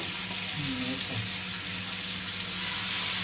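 Butter and oil sizzle in a pan as a steady, close hiss that runs throughout, with a faint low voice murmuring under it at moments.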